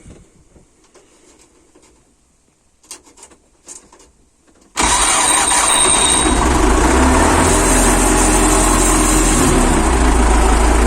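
Quiet clicks and fiddling give way to a YuMZ-6 tractor engine, refitted with a new starter, catching almost at once and settling into a loud, close, steady idle rumble that runs to the end.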